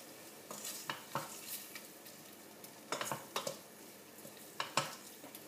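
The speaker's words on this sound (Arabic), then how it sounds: "نقعد نقلبها دقيقه هكاك حتى لين يتبدل اللون نتاع اللحم" Ground meat seasoned with black pepper sizzles in a pan for spaghetti bolognese, with soft frying hiss underneath and irregular, close scrapes and clinks of a utensil stirring it.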